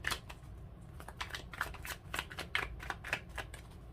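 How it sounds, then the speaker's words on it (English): Tarot cards being shuffled by hand: quick, crisp riffling and slapping of card stock in rapid irregular bursts, close-up and fairly soft, with no talking. "Keep shuffling for you."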